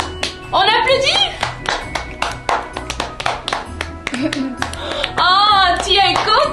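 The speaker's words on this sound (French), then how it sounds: "On applaudit, bravo maman." A family at home claps along at a Christmas gathering, a few sharp, uneven hand claps mixed with children's and adults' excited voices and talk throughout.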